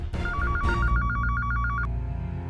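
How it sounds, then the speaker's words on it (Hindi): Telephone ringing indoors in a home, a loud, close electronic trill repeating in quick pulses for about a second and a half, then stopping, with no talk. "फोन उठाओ"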